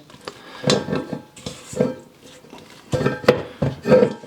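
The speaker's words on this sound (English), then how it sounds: "So now we're just stirring the mixture together, making sure that all the dry ingredients come off the side of the bowl" A spoon stirring naan bread dough in a bowl, irregular scraping and knocking strokes against the sides, close and moderately loud, with intermittent pauses.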